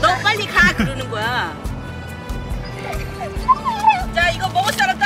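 A Shiba Inu dog whimpering and yipping in short, high, wavering bursts among people talking nearby outdoors, the dog's cries interspersed with conversation at close range.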